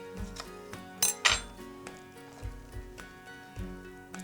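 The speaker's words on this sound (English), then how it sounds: "Just grab a knife, I'm going to take the tops off and we'll just cut them into quarters" A knife cuts strawberries into quarters on a board. Irregular knocks and clinks of the blade and dishes come close and fairly soft, with no talk.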